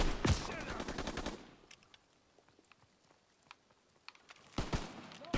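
Call of Duty: WW2 machine gun fire: rapid, loud automatic bursts at the start and again at the end, with scattered distant shots in the quieter middle.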